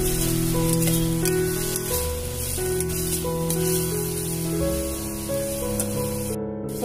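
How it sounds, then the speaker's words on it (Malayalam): Onions sauté with salt in a pan for mutton masala curry, a close, steady sizzle with faint spattering under background music. "സബോള ഒക്കെ നന്നായിട്ട് വഴന്നു വന്നിട്ടുണ്ട്."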